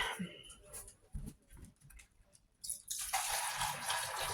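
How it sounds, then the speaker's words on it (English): Tap water running into a pet's water dish, faint and intermittent with clinks and rustles before a steady hissing gush swells in toward the end, close by. "Just filling up the girls' water dish too."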